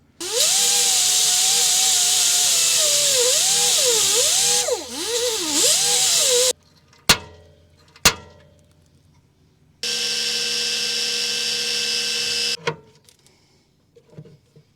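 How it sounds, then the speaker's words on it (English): A power drill bores out broken-off bolts on stuck Kwikee/Lippert RV power steps, loud whining bursts with changing pitch, then short clunks and another steady whirring run near the mic. "we're gonna have to drill those out."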